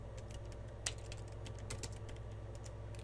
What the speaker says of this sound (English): we'll type in VLAN 200